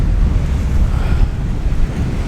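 Ocean waves surge and break along the shore at Landguard Point, Felixstowe, with strong wind buffeting the microphone in a loud, continuous roar, no voices present.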